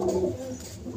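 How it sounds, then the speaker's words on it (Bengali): Pet pigeons coo in soft, low, rolling calls heard close by, with no voices over them. "5টা পায়রা দেখাচ্ছি"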